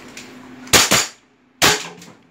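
Shots fired at a target in a professional shooting contest, two sharp close reports in quick succession followed by a third, with quiet pauses between.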